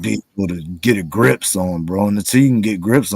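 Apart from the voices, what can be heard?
No distinct noise like a dog, phone or traffic.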